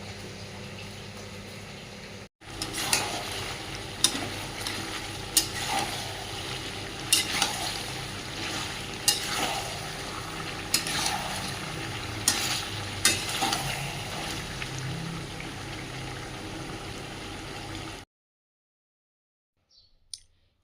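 Meat frying in oil in a kadai for a birthday pulao, a steady sizzle broken by repeated sharp clicks and scrapes of stirring, running nearly eighteen seconds before cutting to near silence.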